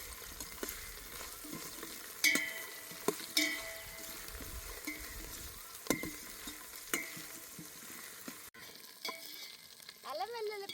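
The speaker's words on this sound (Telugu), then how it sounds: "అల్లం వెల్లుల్లి పేస్ట్ పచ్చివాసన పోయేంత వరకు నూనెలోనే ఉడకబెడతాను" Ginger garlic paste and curry leaves frying in hot oil in a home kitchen, a steady low sizzle broken by several sharp stirring clinks of a spoon against the pan.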